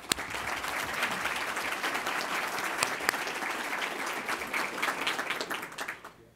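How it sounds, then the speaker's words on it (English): Forum audience applauding its supporters at a Columbus Metropolitan Club event, a dense, sustained round of clapping from a large crowd that fades out near the end. "if you would join me in a round of applause to thank all of our supporters of today's forum"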